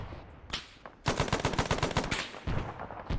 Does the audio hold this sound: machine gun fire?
yes